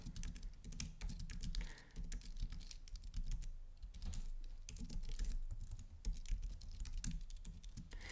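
Rapid, uneven clatter of a computer keyboard as code is typed, close and fairly quiet, with brief pauses between bursts of keystrokes and no voices.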